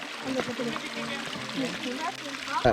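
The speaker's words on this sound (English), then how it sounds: "right down by the Beaver Brook creek, and it's like a little waterfall" Beaver Brook creek spills over a small waterfall, a steady close rush and trickle of water running continuously beneath people talking.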